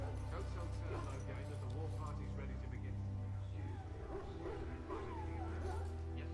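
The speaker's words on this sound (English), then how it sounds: "I must get the hound ready for battle." A hound barks in Dragon Age: Origins, set among kennels of war dogs sickened by darkspawn blood. The barks and yips are mid-distance, mixed into a steady low game ambience while characters talk over them.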